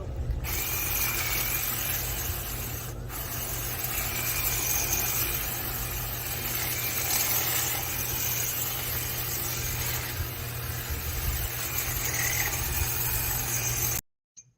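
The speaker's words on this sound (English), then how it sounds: "knocking out some of it with my Black & Decker hedge trimmer" Black & Decker 22-inch battery hedge trimmer cutting branches on a tree, a steady close motor buzz running without pause before cutting off abruptly at the end.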